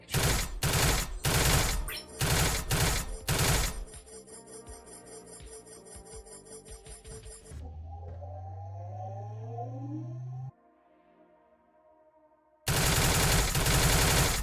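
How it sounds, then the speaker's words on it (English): Rapid gunfire bursts from a video game under development, then a rising whooshing tone and a heavy rocket-launcher blast at the end, loud and close with no talking. "I can catch the projectiles and shoot them away. Do rocket launcher."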